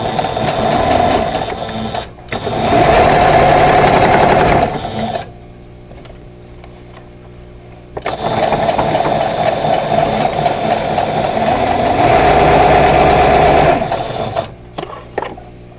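A sewing machine stitches quilt block pieces for a vintage Summer Star block, whirring steadily and close in two long runs with a quiet pause between them.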